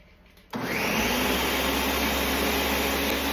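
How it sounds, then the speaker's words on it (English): A blender kicks on after a brief quiet moment and runs loud and steady, blending red enchilada sauce with Mexican oregano in a home kitchen. "Now we are going to blend this. Like, I like to give it 2 turns on my blender."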